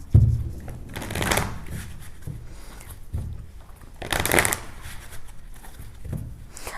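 Tarot cards being shuffled by hand, two clear riffling bursts separated by quieter handling rustles, close and fairly soft, with no talking.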